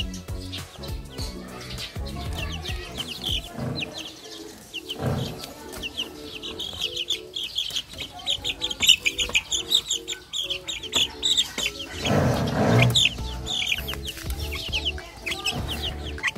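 Rhode Island Red chickens about three weeks old cluck and chatter continuously, with several birds close by and occasional louder squawks and rustling through the middle.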